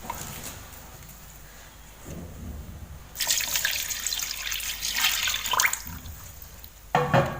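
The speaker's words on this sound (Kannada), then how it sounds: "ಇತ್ತೆ ನಾನಕ್ಕೆ ನೀರು ಪಾಡ್ವೆ." Water splashing and running into a bowl in a home kitchen during ghee making, with bursts of pouring and splashing starting partway through and a brief renewed gush near the end, close and moderately loud.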